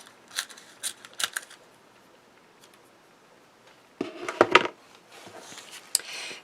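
A card is trimmed free of excess tape with scissors, a few crisp close snips in a quiet room, the loudest cluster arriving about two-thirds through.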